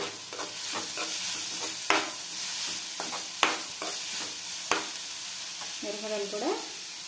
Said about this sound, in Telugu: మరమరాలు కూడా వేసేస్తున్నామండి.